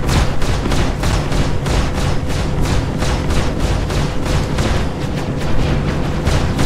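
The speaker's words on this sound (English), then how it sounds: "Got somebody firing on me too." Sustained gunfire in a Star Citizen firefight, a loud, steady stream of rapid shots repeating in an even rhythm throughout, with no talking over it.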